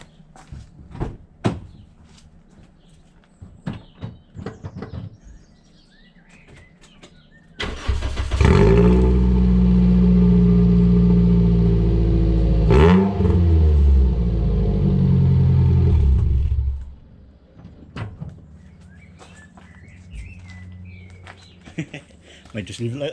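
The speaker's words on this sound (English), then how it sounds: "let's do an obligatory startup without the exhaust on" A Toyota Celica VVTI with its exhaust backbox removed cranks, catches and idles loud and raw with a sharp blip of revs, then cuts off; clicks and handling noises come before and after.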